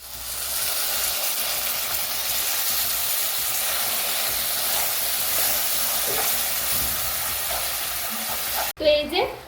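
Water poured into caramelizing sugar in a pan gives a loud, steady sizzling hiss that runs continuously for several seconds and then breaks off abruptly into brief clattering stirring sounds near the end.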